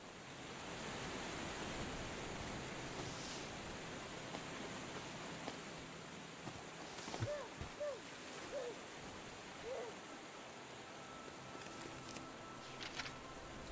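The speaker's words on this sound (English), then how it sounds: "Gotta check them waterfalls." Steady broadband rush of a waterfall in the video game Europa, a continuous wash of falling water with a few faint tonal game sounds partway through.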